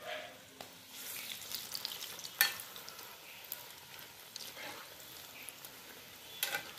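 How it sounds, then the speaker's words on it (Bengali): Bread chicken pakoras fry in hot oil, a faint, soft sizzling hiss with scattered small pops and a few louder crackles. "ধৈর্য নিয়ে এগুলো ফ্রাই করতে হবে।"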